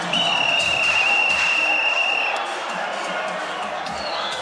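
Boxing crowd at a professional fight cheering and roaring, a dense, loud wash of voices with scattered shouts and a sharp whistle, a commentator talking over it.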